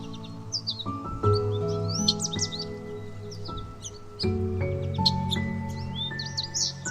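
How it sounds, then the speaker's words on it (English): Birds chirping and tweeting over a layer of sustained musical tones, with short bright calls scattered throughout, moderately loud and no talking. "Spend time listening to the birds singing,"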